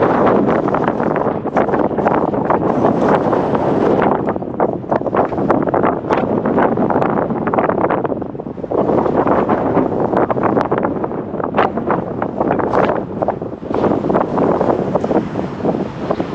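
Heavy, roaring wind buffeting the microphone while riding a motorcycle on a windy day, rising and falling in long gusts with a few brief lulls, steady and loud throughout.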